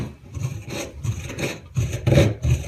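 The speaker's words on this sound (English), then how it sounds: "deburr the inside. You could also do that with a knife." A deburring tool rasps around the inside edge of a freshly cut short piece of 1/4-inch copper pipe, giving close, rhythmic scraping strokes about twice a second that grow louder toward the end.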